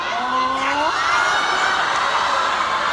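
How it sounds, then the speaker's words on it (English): A loud crowd cheers and whoops for a contestant named Nicole, with shrill rising shouts at the start swelling into a sustained roar of voices. "the crowd loves you so much, they just went all on your name"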